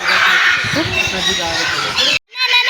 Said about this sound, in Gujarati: તો અલગ જ ટાઈપનો પોપટ છે